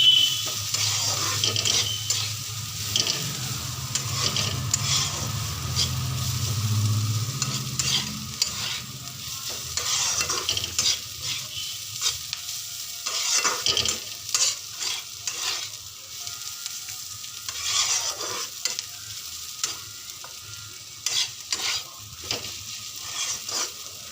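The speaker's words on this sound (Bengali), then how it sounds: "সামান্য হলুদ দিয়ে তাকে ভালো করে নাড়াচাড়া করতে হবে" Bottle gourd peel with turmeric being stirred and fried in a pan, a steady sizzle with scraping stir strokes repeating irregularly throughout, close and moderately loud, with no talking.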